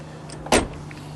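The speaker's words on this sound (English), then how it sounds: "it's actually an e-stop controller actuated by that little button right there" An e-stop brake actuator in a Plymouth Roadrunner engaging the rear brake shoes gives one brief, faint whir against a quiet interior hum.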